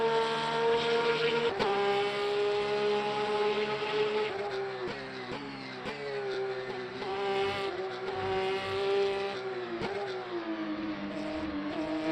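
An LMGTE race car in the Le Mans Ultimate racing game, heard from behind as its engine revs loud and high, climbing and dropping through several gear shifts in a continuous howl.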